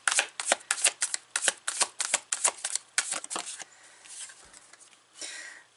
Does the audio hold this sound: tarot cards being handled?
yes